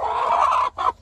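Cochin chickens cluck close by, a long throaty call followed by two shorter clucks, with no talk over them.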